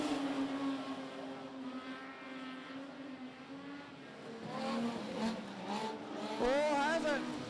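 Modified production race cars lap Kingaroy Speedway, a distant engine drone running under steady race commentary, with rising revving engine tones growing louder near the end.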